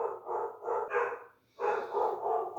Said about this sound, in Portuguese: Eu dei um pause aqui para ver se os cachorros param de latir, mas eles estão bem animados ali.